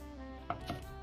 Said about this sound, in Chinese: 大蒜和生姜适量，先拍破再剁碎